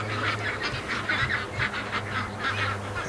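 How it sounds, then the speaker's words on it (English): Ducks and geese honking and quacking in agitated bursts at 3 a.m. in a backyard where ducklings are kept outside, a loud, continuous chorus of overlapping calls close by. "I just woke up there because the ducks were freaking out"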